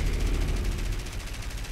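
A vehicle's gun in War Thunder fires in rapid, continuous bursts, a dense, heavy stream of shots that stays loud and steady from start to finish with no talking over it.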